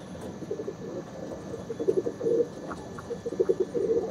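Andhra Madrasi pigeons coo softly in repeated low, rounded phrases, fairly close, against steady background hum with no talk.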